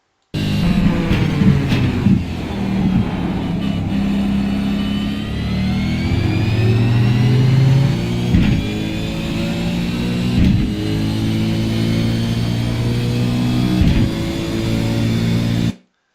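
A race car at Circuit of the Americas accelerates hard, its engine loud and close, pitch climbing through several gear changes with brief dips between shifts, ending abruptly.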